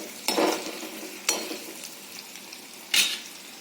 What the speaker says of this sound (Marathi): थोडंसं मी असं हे तळून घेते पनीर